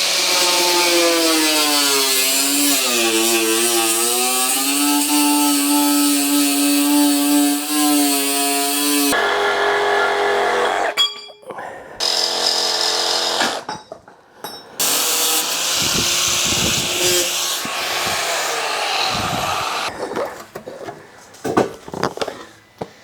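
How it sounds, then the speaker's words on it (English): An angle grinder cuts through the inner fender of an 80 Series Land Cruiser, first a loud whining spin-up with shifting pitch, then harsh intermittent grinding bursts broken by brief pauses, close and dominant throughout. "So now let's take the angle grinder and cut this section out."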